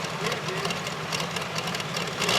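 A pulling tractor's engine drones loudly and steadily, with a rough rumbling roar and no break, at a tractor pull competition.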